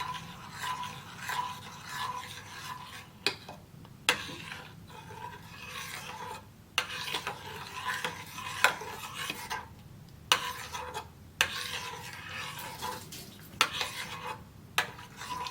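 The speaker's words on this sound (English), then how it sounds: "So just keep stirring." A thick two-ingredient mixture stirred in a pan, with repeated scraping and rasping strokes of a utensil against the metal in an uneven rhythm, close and fairly quiet with brief pauses between strokes.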